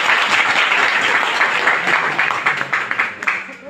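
An audience claps together during a seminar-style meeting, a loud, dense burst of applause that thins toward the end into scattered individual claps.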